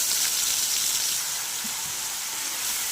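A paste of ginger, garlic, tomato and coriander frying in a pan, giving a steady, bright sizzle that holds evenly throughout at close range.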